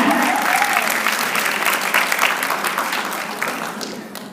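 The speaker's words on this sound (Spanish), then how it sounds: "Un aplauso para Carlos porque ya va a haber enzima" Audience applause at a medical conference, a thick continuous wash of many people clapping that starts at full strength and slowly fades over four seconds, with no talking over it.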